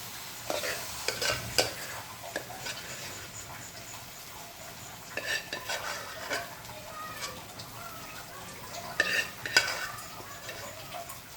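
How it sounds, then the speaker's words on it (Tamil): Boiled tapioca being stirred into a chilli masala in a pan, with bursts of scraping and spoon clatter between quieter stretches of low sizzle. "நம்ம வேக வச்சுருக்க மரவள்ளிக்கிழங்கு இதை வந்து இதில் மிக்ஸ் பண்ண போகிறோம்"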